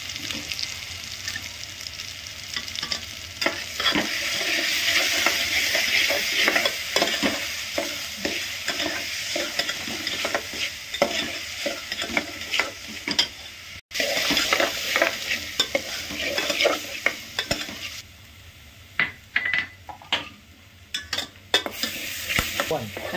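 Ginger, garlic and coconut sizzle in a frying pan while being stirred, a continuous close crackle of hot oil broken by frequent scraping strokes of the spoon.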